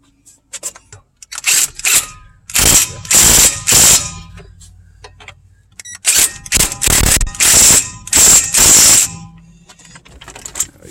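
Ratchet tightening brake caliper bracket bolts on a 2011 Chevy Impala during a rotor replacement, close and loud in two bursts of rapid clicking strokes separated by short pauses.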